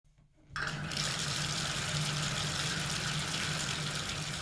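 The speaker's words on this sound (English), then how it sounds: "So let's fill this tub" A tap starts filling a bathtub after a short quiet moment, then water gushes steadily into the tub as a loud, even rushing stream with a low hum underneath and no voices.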